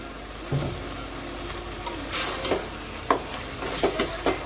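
Stirring chilli and coriander powder into chicken gravy frying in a pan, with soft scraping strokes and a faint sizzle, a few sharper spoon scrapes standing out near the end.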